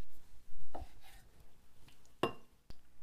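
A knife slices roasted piquillo peppers into strips on a board, giving a few sparse, separate cuts and taps at close range with quiet pauses between them.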